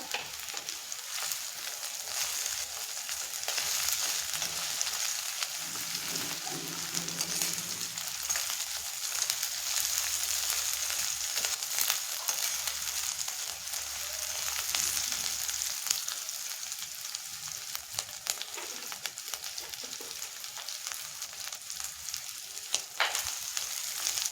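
Green chillies, onion and spiny gourd frying in a pan, a low, steady, crackling sizzle that runs on without pause, with faint intermittent stirring.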